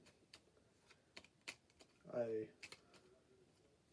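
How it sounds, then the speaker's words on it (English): Cards shuffled by hand during a tabletop game, a short riffling burst of quick clicks standing out amid scattered taps and handling noises, close and soft, with a voice murmuring briefly. "Now I get to shuffle."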